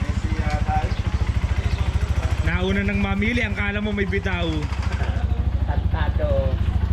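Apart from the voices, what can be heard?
enduro motorcycle engine running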